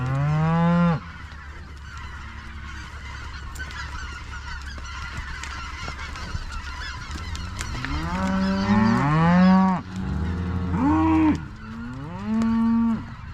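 Cattle in a corral on a farm during calf weaning moo loudly and repeatedly, several drawn-out bellows from different animals overlapping at close range, with no talking.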